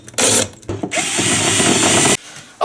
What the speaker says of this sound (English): Now we're going to cut our hole for our power cord. And so I've got a hole cutter here